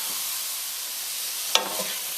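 Chopped scallion sizzles softly in a pan of stewed saltfish and is stirred with a single quick clatter of the spoon partway through the short, even hiss.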